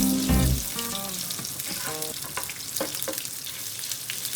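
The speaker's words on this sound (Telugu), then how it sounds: "అల్లం వెల్లుల్లి పేస్ట్ ఫ్రై అయిన తర్వాత టమాటో ముక్కలు వేసుకోవాలి." Ginger garlic paste sizzles in hot oil with cinnamon, cloves and cumin while making masala egg curry, opening with a loud burst of frying and a few clinks, then settling into a steady crackling hiss.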